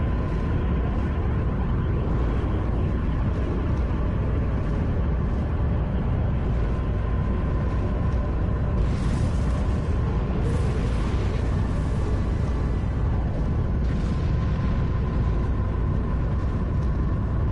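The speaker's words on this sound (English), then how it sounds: "Vosk's ship is still set for self-destruct. We should exit the explosion range before it blows." A starship self-destruct explosion in the video game Star Trek Online, a sustained loud roaring blast rumble that fills the whole clip, with brief hissing bursts layered on top.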